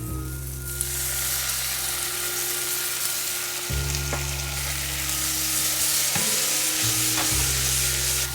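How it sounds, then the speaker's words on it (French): Grilled leeks sizzle loudly in a frying pan after a splash of water is added to lift the browned bits and finish cooking; a steady, close hiss runs throughout over a low tonal hum, with no talk. "juste une pointe d'eau pour venir décoller tous les parfums qui sont au fond de la poêle et finir la cuisson"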